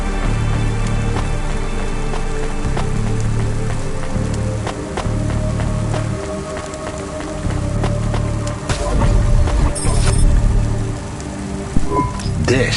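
Steady rainfall in the video game Cloudpunk, a constant hiss of drops on surfaces with a low pulsing hum beneath and scattered louder splashes toward the end.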